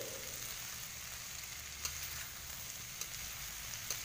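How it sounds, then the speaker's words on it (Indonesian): Potatoes and carrots sizzle steadily in a frying pan, a soft continuous hiss with a few faint scraping clicks from stirring, no voices. "Aduk-aduk dulu ya teman-teman supaya rata nih"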